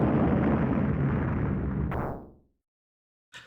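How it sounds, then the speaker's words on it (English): Boss demon exploding in the Altered Beast arcade game: one loud, dense, rumbling blast that holds for about two seconds, fades out into silence, then a short burst of game sound follows. "Smash him enough times and he explodes"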